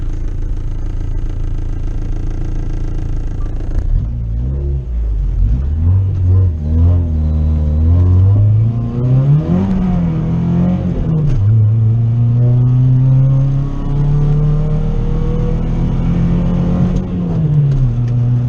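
A turbocharged budget car engine idling roughly, then revving up and down repeatedly with rising and falling pitch, loud and close, no talking.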